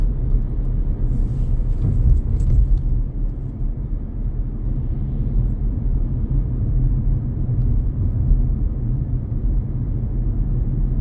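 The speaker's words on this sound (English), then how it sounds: "we can now start just accelerating back up to 30 miles an hour" A car accelerates on a country road, heard from inside as a steady low engine and road rumble that holds fairly constant, with a brief louder swell early on.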